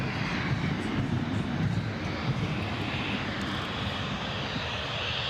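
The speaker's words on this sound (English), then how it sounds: "EasyJet A319 heading back out." An EasyJet Airbus A319 airliner at Newcastle gives a steady, loud engine roar, a broad rumble that holds level throughout with no talk over it.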